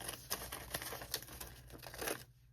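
Fabric for covering a notebook being cut, a quiet, close series of crisp snipping and rustling crinkles repeating in quick irregular succession for a couple of seconds.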